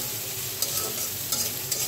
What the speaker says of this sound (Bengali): এখানে বসাই দিলাম পেঁয়াজ আর কাঁচা ঝালটা তেলের উপর ভেজে নিচ্ছি।